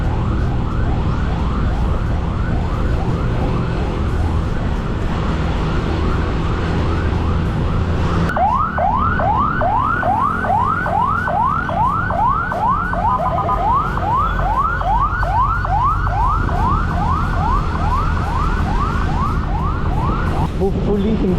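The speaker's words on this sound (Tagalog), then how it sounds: "May ambulance." Ambulance siren wailing through slow, congested traffic, its repeating rising-and-falling cycles steady and loud for the whole stretch, shifting to a faster, sharper rhythm midway, over a constant road and engine rumble.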